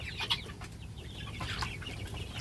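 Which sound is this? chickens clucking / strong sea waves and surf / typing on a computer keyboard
chickens clucking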